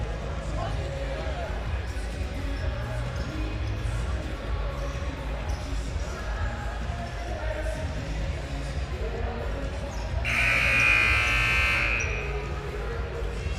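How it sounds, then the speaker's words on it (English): Buzzer at a basketball game in an Indiana state title competition, a loud sustained electronic blast of about two seconds rising over steady gym crowd murmur, ball bounces and squeaking activity. "There's the buzzer."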